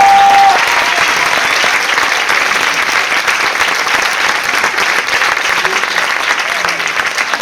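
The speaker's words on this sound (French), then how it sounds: "Donc j'aimerais qu'on les applaudisse très fort" A school concert audience at Lycée Blaise Pascal in Orsay breaks into dense, sustained applause, loud and even throughout, a hall full of hands clapping with no talk over it.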